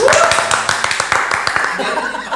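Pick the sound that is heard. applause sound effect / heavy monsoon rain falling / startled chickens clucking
applause sound effect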